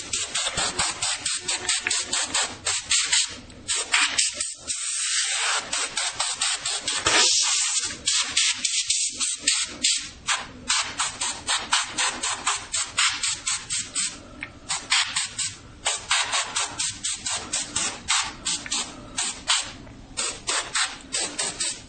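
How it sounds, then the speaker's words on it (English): Compressed air hisses in short, repeated bursts as forty-year-old dust is blown gently out of a guitar speaker cabinet, close and loud, with a steady pulsing rhythm and no talking. "I'm just going to kind of blow some of this 40-year-old dust out of here softly"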